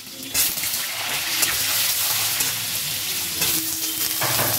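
Pointed gourd dropped into hot oil tempered with asafoetida, a dense loud sizzle that bursts up and holds steady, close, with light stirring scrapes and no voices.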